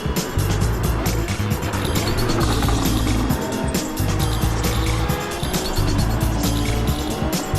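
A race car engine roars steadily through a racing video game circuit as tires squeal in the corners, a loud and continuous sound with the pitch of the revs rising and falling.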